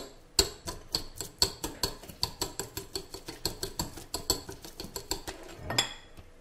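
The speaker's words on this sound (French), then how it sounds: "J'ai mis mes 100 g de brocchio. On l'écrase un petit peu." Utensil crushing brocciu, a soft Corsican cheese, in a bowl, making a steady series of light, close tapping and scraping clicks against the bowl at a quick, even pace.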